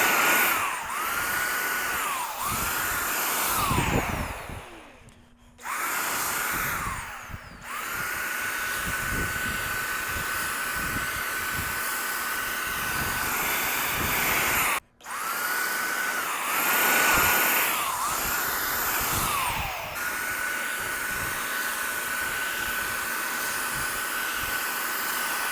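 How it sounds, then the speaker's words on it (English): A handheld blower blasts air across freshly painted, sanded wood in a workshop, a loud steady whoosh with a few short pauses and rising and falling pitch sweeps as it is aimed around, no talk over it. "I take my blower and I blow off like that"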